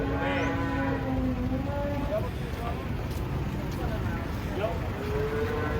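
A large, aggressive cow is unloaded from a truck and lets out drawn-out, fairly close moos at the start and again near the end, amid constant crowd noise and people talking.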